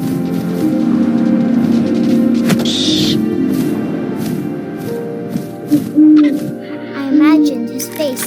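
An owl hoots in the video game What Remains of Edith Finch over a steady wind-like ambient drone, with a brief higher tone and a couple of later softer calls.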